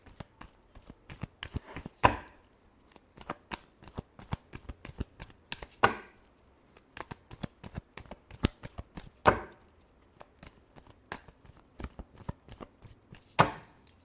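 Tarot cards being shuffled by hand: a rapid, irregular patter of crisp card flicks, broken by a few louder riffling bursts spaced several seconds apart, close and fairly quiet, with no talking.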